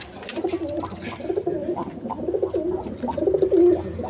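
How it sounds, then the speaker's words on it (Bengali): A pair of chulli pigeons, one of them a red chulli, coo repeatedly at a pigeon farm. The low, throaty coos come close and fairly loud, rising and falling continuously over faint background noise. "এখানে এক পেয়ার চুল্লি কবুতর আছে, একটা হলো গিয়া চুল্লি, একটা হইলে আপনার লাল চুল্লি বলে"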